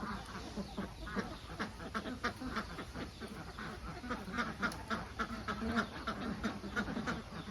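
Many Khaki Campbell ducks quack in a busy, overlapping chorus in a pen at moderate distance, steady and continuous without any talking.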